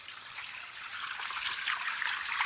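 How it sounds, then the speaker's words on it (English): A water feature in a Longwood, Florida nature park trickles and splashes steadily, a soft, continuous wash of running water heard on its own at moderate distance. "Here's our water feature."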